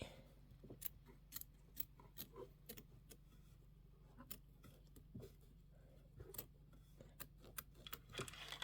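Small snips cutting and trimming quilt fabric for chenille pineapple blocks, a series of quick, crisp close snips at an uneven rhythm, fairly quiet with no talking.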